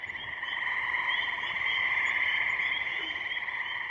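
Spring peepers and frogs calling from a dark, cool country pond at night, a dense continuous chorus of high shrill peeps with trilling croaks underneath, steady and moderately distant, no voices.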